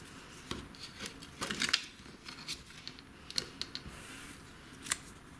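Scissors snipping off loose thread ends on a small junk journal made from a vintage matchbox: quiet, close crisp snips, a quick cluster of cuts followed by a few isolated clips.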